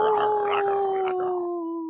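A person imitates a wolf howl, giving one long, clear, sustained vocal tone that gradually falls and fades toward the end, close to the microphone with no other sound around it.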